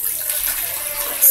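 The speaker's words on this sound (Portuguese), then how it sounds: "500 ml de água dentro dessa vasilha" About 500 ml of water pours into a bowl while homemade liquid laundry soap is being mixed, a steady hissing splash close by.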